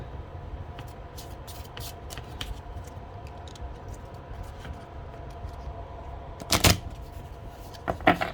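Playing cards being shuffled quietly, with scattered light flicks and one sharper riffling burst near the end, and no talking.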